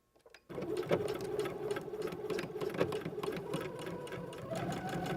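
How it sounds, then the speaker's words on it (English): Sewing machine back stitching along a zipper with a zipper foot, starting after a brief pause and then running steadily and close up, with a continuous rapid mechanical whir and needle clatter. "I'm going to back stitch."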